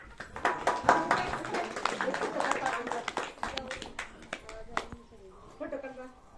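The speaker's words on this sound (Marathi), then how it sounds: "खूप खूप छान जोरदार टाळ्या होत्या" Audience clapping for a second-grade girl's one-act play, a dense patter of many hands that swells, then thins into scattered claps, with voices talking over it.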